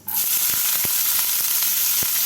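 Chopped onions drop into hot oil already spiced with cloves and peppercorns, bursting into a loud, steady sizzle with a few faint clicks of the spoon against the pan.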